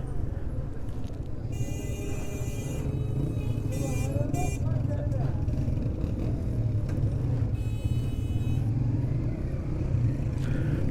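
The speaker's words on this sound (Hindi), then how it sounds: "ट्रैफिक जो है वो जाम हुई है।" Road traffic jammed near a bazaar in Chitral, with a steady low engine rumble and several horn blasts rising above it, along with nearby voices.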